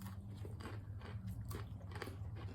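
Crunchy bites into a Take 5 candy bar with peanuts and pretzels, giving close, repeated crisp chewing crunches over a steady low background hum.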